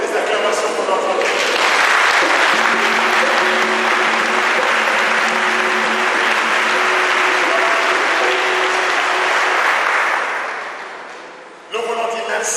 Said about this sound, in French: Est-ce que nous pouvons donner des acclamations pour notre Dieu?